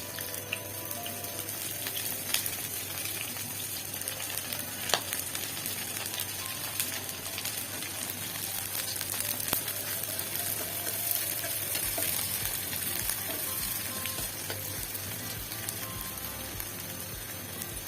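Green chilies, onion and garlic fry in hot oil, a steady close sizzle with crackling pops running throughout, no voices.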